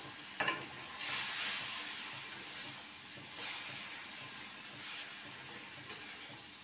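Spices frying in a pan after a spoonful of spice water goes in, giving a soft steady sizzle and hiss with occasional stirring scrapes, quiet and close.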